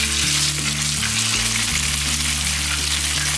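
Dried tofu fries in hot oil with minced ginger in a pan, giving a steady, close, loud sizzle with low hum underneath and no talking.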